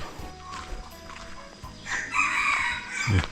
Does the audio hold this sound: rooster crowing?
yes